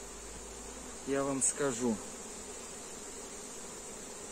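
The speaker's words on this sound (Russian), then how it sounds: "Ну, пчелы спокойные" A wild swarm of Buckfast honey bees at an apiary gives a brief, close buzzing burst of about a second over steady background hiss, alongside a short spoken phrase.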